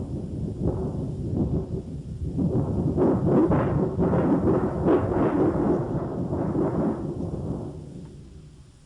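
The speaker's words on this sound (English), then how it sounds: "Now listen to the effect as I shake this sheet of roofing tin in front of the mic." Rumbling, thunder-like roar swells and rolls for several seconds, then fades, made by shaking a sheet of roofing tin close up.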